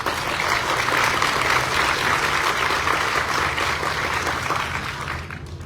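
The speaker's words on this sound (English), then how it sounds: "give them a round of applause" Sustained audience applause at a BART rail groundbreaking ceremony, a dense steady wash of many hands clapping that holds loud and even before tapering slightly at the end.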